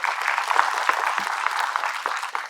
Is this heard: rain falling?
no